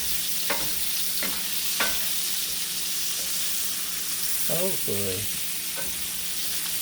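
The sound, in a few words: stirring sausage and cabbage sizzling in enameled cast iron skillet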